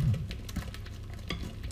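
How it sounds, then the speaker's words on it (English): Butter, caster sugar and eggs being stirred together in a mixing bowl for cupcake batter, giving soft wet stirring and scraping sounds in short uneven strokes, fairly close and moderately quiet. "We're mixing the caster sugar and butter and the eggs."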